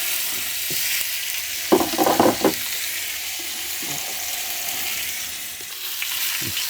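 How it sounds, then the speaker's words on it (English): Beef short rib searing in a hot pan gives a steady, close sizzle and hiss, broken by a short burst of louder crackling and spattering, with no talk. "sear it, get a nice crust on it"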